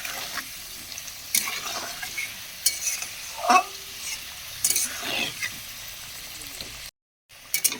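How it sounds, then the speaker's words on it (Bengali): Potatoes frying in oil with salt, chili powder and turmeric powder, with steady sizzling broken by repeated scraping stirs of a spoon against the pan at close range. "দিয়ে এটা লাল করে ভেজে নেব"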